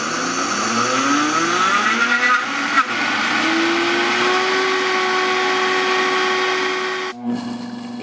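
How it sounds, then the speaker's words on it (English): A Vitamix 300 blender with a 2.2-horsepower motor runs steadily while blending hazelnuts into a spread, a loud continuous whine whose pitch shifts as it labors, then briefly drops near the end before resuming. "Next, I added the hazelnuts and turned it on."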